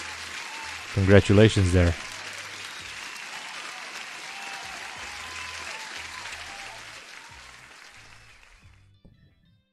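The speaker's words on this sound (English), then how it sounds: "Applause for Sarvesh." Steady crowd applause congratulates a trader during a live London-session futures and forex trading stream, a continuous wash of clapping that slowly fades out near the end, with someone speaking briefly over the start.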